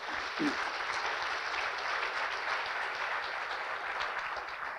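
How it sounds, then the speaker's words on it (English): An audience at a university integration forum gives sustained, even applause for a speaker, a dense wash of clapping at a moderate level that holds steady throughout, with no speech on top. "Let's give Alfred another round of applause."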